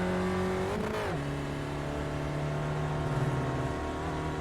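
A Spec Racer Ford race car engine at Oran Park in the iRacing game drones loudly and steadily, dropping in pitch at a gear change near one second, then holding a strong, even tone.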